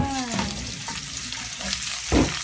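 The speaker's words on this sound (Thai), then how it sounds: "ใส่น้ำมัน นิดนึงพอเนาะไม่ต้องเยอะ พริกลงไป" Chillies hitting a little oil in a pan for stir-fried kale with crispy pork, a soft frying sizzle with a few stirring scrapes and a louder burst near the end.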